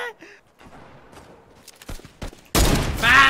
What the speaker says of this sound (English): They don't know where the fuck they're getting shot from.